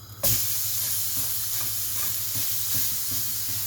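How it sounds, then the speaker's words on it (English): Steady sizzling of steak in a hot pan, a broad frying hiss that starts abruptly and continues evenly, with faint clinks of a utensil underneath. "there we go, sizzling along there, fine"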